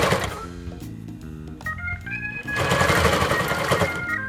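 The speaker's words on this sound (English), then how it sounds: "sew one half on there, and then kind of flip it and then sew the other half" A sewing machine stitches fabric for a baby Star Trek costume, its steady mechanical chatter running in short bursts with brief pauses, close up and moderately loud, with a faint musical tone in the background.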